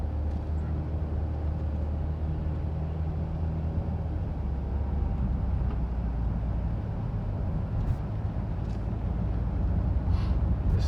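A 2012 Dodge Caravan minivan pulls away in first gear, a steady low engine and road rumble heard from inside the cabin with no talking.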